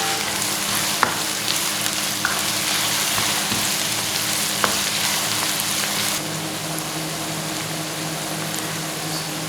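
Onions fry in oil for an egg sauce, giving a steady, loud broadband sizzle that runs throughout with a few faint clicks and a slight drop in brightness partway, with no talking.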